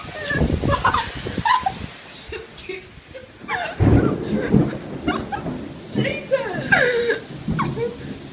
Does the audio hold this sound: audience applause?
no